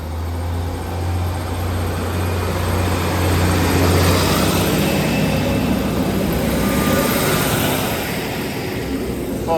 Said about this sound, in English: Departing now is the Northern service off to Ashington